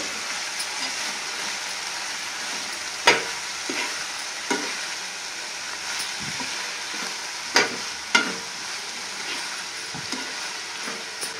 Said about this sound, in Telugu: మొత్తం అంతా కలిసేలా కలుపుకొని మగ్గించుకోవాలి